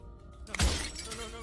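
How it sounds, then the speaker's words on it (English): Glass shattering in the video game Slay the Princess: a single sharp crash with a low thump, followed by a brief tinkling decay of fragments. "at the sound of breaking glass"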